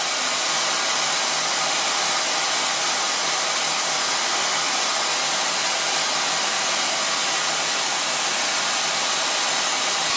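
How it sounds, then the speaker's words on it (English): A hair dryer fitted with a diffuser blowing steadily on natural grey hair, a loud continuous airy roar of broadband hiss that stays constant and close throughout, with no talking. "Start blow drying with a diffuser"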